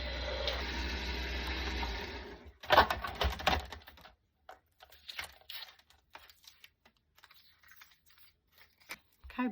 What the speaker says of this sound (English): your cutting machine, either run them long ways or run them on an angle